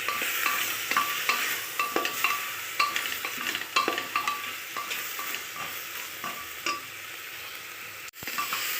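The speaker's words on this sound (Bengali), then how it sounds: "এটা মাংসটা দিয়ে একটুখানি কষে নেব, বেশি না হালকা করে কষে নেব" Chicken pieces being lightly sautéed in a pan for a vegetable chicken stew, giving a steady close sizzle broken by repeated stirring scrapes and clacks, with no talking.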